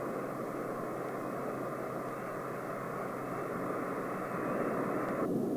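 A Ryan Firebee remote-piloted drone aircraft drones overhead with a steady, sustained engine roar that holds constant and swells slightly louder near the end, with no voices.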